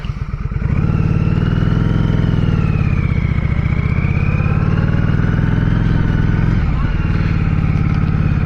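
Yamaha Virago 535 motorcycle engine, just woken from winter storage, idles loudly and close with a steady throbbing pulse that rises to a sustained run, dipping briefly near the end.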